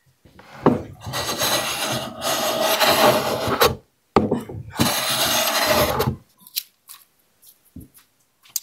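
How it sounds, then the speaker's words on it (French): A hand plane shaving wood on a wooden fishing tackle box makes two long, rasping strokes up close, each lasting a couple of seconds and separated by a short pause, followed by a few light knocks and handling sounds. "mais je vais retoucher au petit coup de rabot, là."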